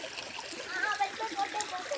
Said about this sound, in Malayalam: കണ്ടോ നല്ല ഒഴുക്കുണ്ട് വെള്ളത്തിന്